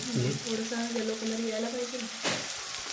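Egg bhurji mixture with turmeric sizzles steadily in a hot pan, a dense close crackle that runs throughout while a voice talks over it, with a brief stir or scrape near the end.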